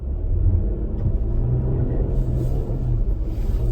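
A vehicle's engine rumbles steadily at close range as its Cooper Discoverer AT3 4S tires spin on deep snow over a gravel lot, a continuous low drone with no speech.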